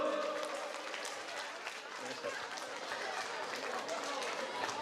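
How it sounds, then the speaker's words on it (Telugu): An audience applauds at a reunion gathering, a continuous, fairly faint patter of clapping throughout, with speech mixed in over it. "కమాన్ చప్పట్లు."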